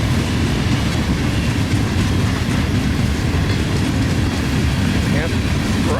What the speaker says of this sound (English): Yep, rusty old salt train.